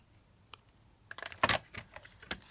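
Scissors make a few quick, close snips while trimming a paper rose during papercraft. A small click comes first, then a cluster of crisp cuts. The snipping is quiet and alone.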